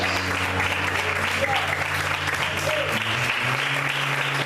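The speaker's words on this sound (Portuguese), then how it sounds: "Você pode aplaudir e exaltar a Deus nessa noite." A church congregation applauds during an evening service, a dense, sustained clapping that carries evenly throughout over a low steady drone from the hall's sound system.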